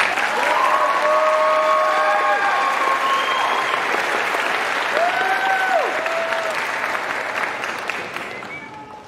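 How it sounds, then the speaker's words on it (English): An audience at a graduation ceremony claps in a sustained, dense round of applause that slowly fades, with a few voices cheering over it. "Please give them one more round of applause."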